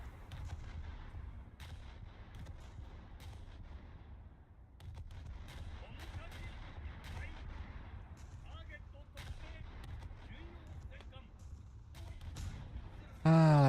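Naval guns firing in a War Thunder sea battle, with repeated sharp booms and bursts scattered across the stretch, some sharper and nearer, others more distant, over a continuous low rumble.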